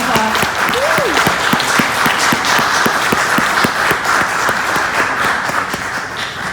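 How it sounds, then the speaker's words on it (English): Audience applause following a film festival Q&A session, steady dense clapping from a sizeable crowd that fills the room evenly for the whole stretch, with a few louder individual claps standing out near the front. "let's give Mikeal Burgin and Mikeal Berg a round of applause."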